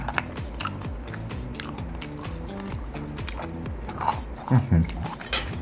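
Crunchy bites into plain honey toast made in a Xiaomi Mi Smart Air Fryer 3.5L, a few crisp crunches near the end, under a steady music bed with talking throughout.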